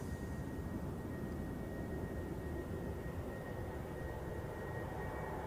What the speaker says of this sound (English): another heavy landing, the A330 from Washington